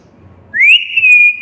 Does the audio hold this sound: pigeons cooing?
no